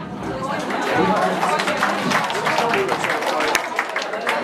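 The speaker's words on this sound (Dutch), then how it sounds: "met salsa zeggen ze wel een applaus voor jezelf" Audience applause and clapping in a salsa dance class after a demo, a steady mix of claps and chatter running throughout with voices talking over it.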